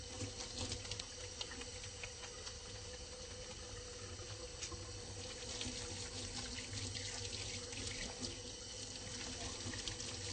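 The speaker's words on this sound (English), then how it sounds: "I'm going to go ahead and wash my hands." A water tap runs steadily into a sink during handwashing before a medical exam, giving a constant close splashing hiss with small shifts in the flow over about ten seconds and no talking.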